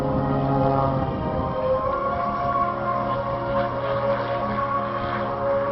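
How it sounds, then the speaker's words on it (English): A Pitts Special aerobatic airplane takes off at the Wings Over Springbank air show, its engine a steady, droning hum held for several seconds with no voices over it. "Into the sky, here is Brent Handy, ladies and gentlemen, in the Pit Special"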